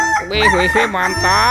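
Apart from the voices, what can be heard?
toy rooster crowing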